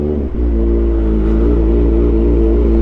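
Close and loud, a Kawasaki ZX4RR with an open Austin Racing shorty exhaust revs in second gear, giving a deep, car-like sustained roar that holds steady after a brief dip near the start.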